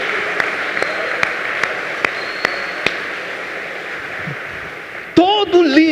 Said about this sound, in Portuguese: isso merece mais uma salva de palmas